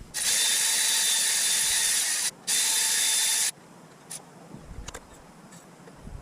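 A ratchet wrench on a Yamaha TTR 125 dirt bike's brake rod gives a loud, close burst of rapid clicking that breaks briefly, resumes, then stops, leaving faint scattered clicks and handling noise.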